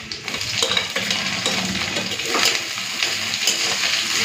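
Chopped onion frying in hot oil with garlic, nigella seeds and dried red chillies for a prawn-head dish, a close, steady sizzle broken by light stirring and scraping for about four seconds, no talk.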